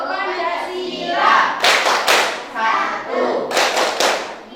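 A primary school class doing the Tepuk Pancasila clapping game, with children chanting together between tight bursts of rhythmic group claps that come in short, loud clusters.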